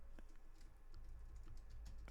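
Typing on a computer keyboard, a steady run of quiet key clicks at close range with a low background hum, no speech.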